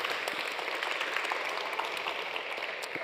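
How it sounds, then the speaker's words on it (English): Audience applause at a book festival event, a dense, even wash of clapping held steady for a few seconds, no voices over it. "Yes, a round of applause for that hashtag."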